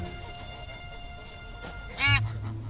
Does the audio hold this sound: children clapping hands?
no